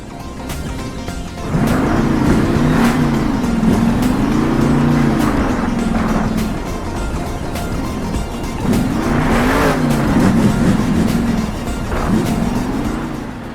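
Monster truck engine in the video game Monster Jam Steel Titans 2, revving continuously with rising and falling pitch through cornering, braking and accelerating, loud and alone with tire noise.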